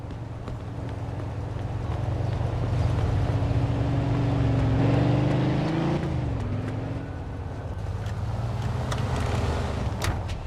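A car engine drones steadily in Mafia II as the vehicle drives, with a low hum that rises slightly mid-way and then eases, plus faint ticks and clicks over the top.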